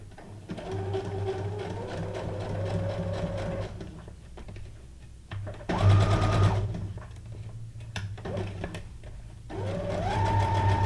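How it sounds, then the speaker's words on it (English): A sewing machine runs a straight stitch through junk journal paper, its motor whirring in several steady bursts with short pauses between runs, close and fairly loud. "I'm going to do a straight stitch"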